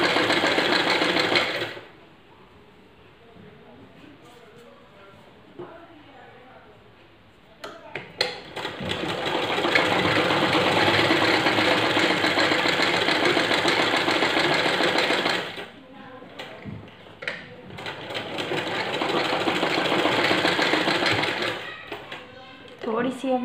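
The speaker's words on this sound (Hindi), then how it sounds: "इसके ऊपर सिलाई लगाते हुए जाना है" Sewing machine stitching along the folded edge of fabric for baby bloomers, running in long steady loud whirring bursts with a quiet pause between them.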